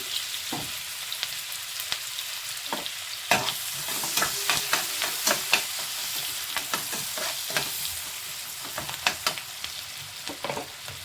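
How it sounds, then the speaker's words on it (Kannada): Finely chopped onions crackle and sizzle in hot oil for paneer egg curry while a spatula scrapes and taps repeatedly against the pan. "ಈಗ ಆಯಿಲ್ ಬಿಸಿಯಾಗಿದೆ ಚಿಕ್ಕದಾಗಿ ಹೆಚ್ಕೊಂಡಿರೋ ಆನಿಯನ್ಸ್ ಹಾಕ್ಕೊಳ್ಳೋಣ"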